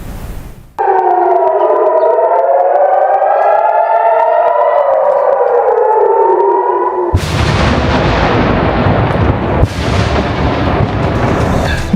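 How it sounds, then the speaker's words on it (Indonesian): A loud civil defense air raid siren in Kiryat Shmona, northern Israel, wails in long rising and falling tones during an Iranian missile attack, then gives way to heavy, continuous roaring noise with a sharp burst near the end. "Hampir setiap 10 menit sekali sirine berbunyi"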